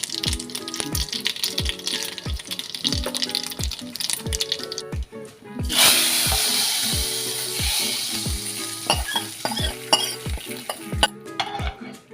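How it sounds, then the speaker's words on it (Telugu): Cumin, mustard seeds, asafoetida and dry chillies tempering in hot oil for a vegetarian curry, a spoon rhythmically knocking the pan in even strokes, then a loud burst of sizzling as the spices hit the oil, with stirring continuing. "జీలకర్ర, ఆవాలు, ఇది కొంచెం ఇంగువ, ఎండుమిరపకాయలతోటి తాలింపు పెట్టుకోవాలండి"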